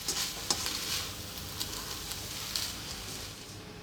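Fresh cilantro is folded into kedgeree with smoked fish in a hot pan, and a spoon scrapes and stirs over a steady close sizzle.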